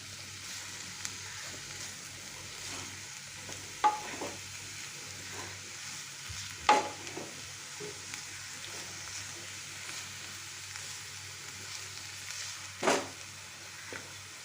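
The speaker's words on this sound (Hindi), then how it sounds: "प्याज को हल्का ट्रांसपेरेंट होने तक भूनेंगे तेज़ आंच पे।" Chopped onions fry in a pan over high heat, giving a faint steady sizzle with a few sharp clinks of stirring scattered throughout.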